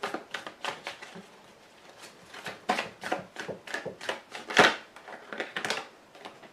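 Tarot cards are cut and shuffled by hand, a string of soft riffling flicks and slaps in an irregular rhythm, close and fairly quiet.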